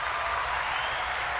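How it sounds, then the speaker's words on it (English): A studio audience claps on request, a steady, even wash of clapping holding at one level throughout with no voices over it. "I need a clap for that one."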